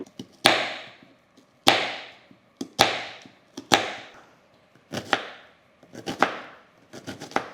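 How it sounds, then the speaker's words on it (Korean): A knife chops onion and spinach on a cutting board, making about ten sharp, close, distinct thunks that come in an uneven rhythm, some single and some in quick pairs, with no talking. "그 다음에는 야채를 좀 손질해 줄 건데요."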